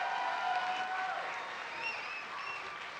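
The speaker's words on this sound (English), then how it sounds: "let's give them another round of applause" Sustained applause from a celebration audience, an even, moderately distant wash of clapping that fades slightly partway through, with faint tonal background sounds mixed in.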